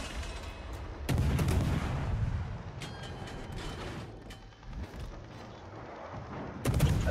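Heavy cannon shots boom in a naval battle in the video game Adriatico, with two or three loud blasts and a distant rumble and mechanical noise between them.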